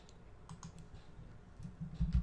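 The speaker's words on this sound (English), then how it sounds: "I'm typing with one finger." Sparse, quiet clicks of a computer keyboard typed with a single finger, a few soft irregular taps close by with pauses between them, no talk.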